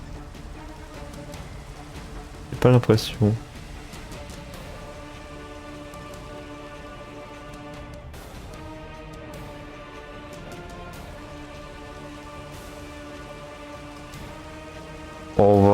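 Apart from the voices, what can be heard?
rain in the video game Cobblemon (Minecraft)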